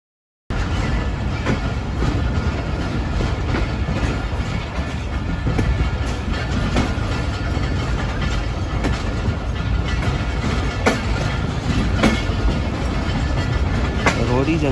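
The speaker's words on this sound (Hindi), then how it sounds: "रोडी जंक्शन पहुंच रही है हमारी ट्रेन।" A Fareed Express passenger train runs on rails at night, a steady close rumble with rhythmic clickety-clack wheel beats and faint squeals throughout, carrying on without pause.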